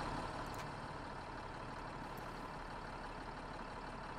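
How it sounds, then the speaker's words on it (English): Truck engine in the SnowRunner off-road driving game, a steady low rumbling drone that holds constant and fairly loud throughout with no talk over it. "Interesting engine sound."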